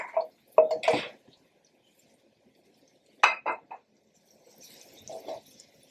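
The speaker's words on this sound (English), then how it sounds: "Stirring to brown evenly." Meat browning in a pot is stirred with a utensil, producing a few distinct close clinks and scrapes in short bursts separated by near silence, with a faint sizzle near the end.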